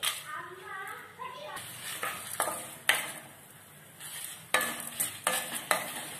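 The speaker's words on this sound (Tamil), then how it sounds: "போட்டு இது நல்லா செவக்க வறுத்துக்கலாம்." Cumin, fenugreek, chana dal and dried red chillies roasting in a pan at home, with light sizzling and repeated scraping stir strokes in uneven bursts, close and quiet, while someone talks over it.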